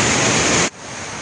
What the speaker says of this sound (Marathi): अशा प्रकारे पाणी प्रवाह सुरू झालेला आहे, विसर्ग आपण बघू शकता।